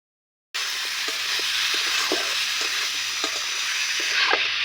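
Chicken with onion and garam masala fries in a pan, a continuous close sizzle starting abruptly and running steadily, with soft periodic scraping from stirring.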